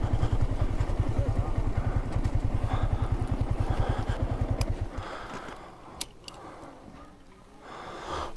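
Motorcycle engine idling on a steep mountain road between Tindu and Marayon Tong, a loud steady low chugging for about five seconds before it cuts out, leaving faint outdoor ambience and a few small clicks.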